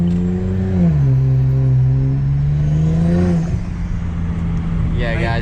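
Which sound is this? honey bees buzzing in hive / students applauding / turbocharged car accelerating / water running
turbocharged car accelerating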